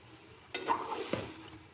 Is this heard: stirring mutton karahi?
yes